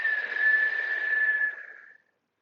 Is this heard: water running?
no